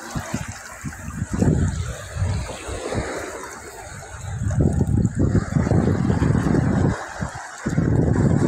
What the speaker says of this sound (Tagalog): Lakas po ng alon mga kamaster.